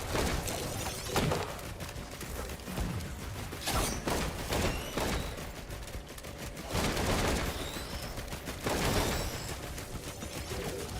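Rapid gunfire in the video game Risk of Rain 2, bursts of crackling shots in repeated clusters over a busy game soundscape, with chirpy effects between volleys.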